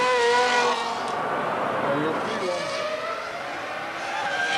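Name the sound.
Ferrari Formula One car racing a qualifying lap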